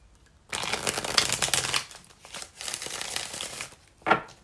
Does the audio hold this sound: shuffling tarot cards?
yes